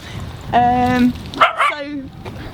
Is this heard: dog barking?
yes